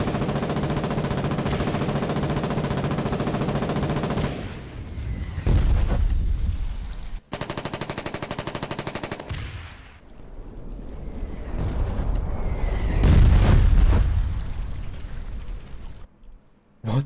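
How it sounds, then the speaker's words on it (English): Flare mortar shells burst in a Foxhole battle for Vipers Pit: loud, deep booms land amid dense, rattling machine-gun fire, with heavy blasts building to a big impact near the end. "they're trying to hit us with flare mortars"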